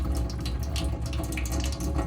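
Water sputtering and gushing from a tap in a KonTiki 649 motorhome as air clears from the pipes, an uneven, splashing flow with irregular bursts, close and fairly loud throughout.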